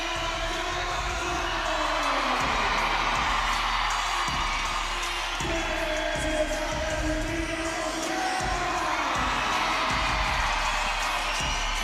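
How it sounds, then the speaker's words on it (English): Home crowd at a FIBA Women's AmeriCup basketball game cheering loudly as the Chile team walks in through the entrance ramp; sustained full-throated roar with whoops in a large arena, continuous and loud throughout. "You hear the crowd get the full throat."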